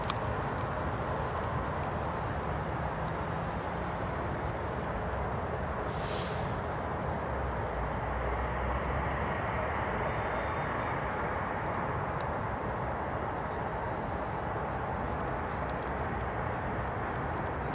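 Heavy Airbus airliner departing a runway at Seattle-Tacoma International Airport, a continuous distant jet roar with broad rumble holding steady throughout.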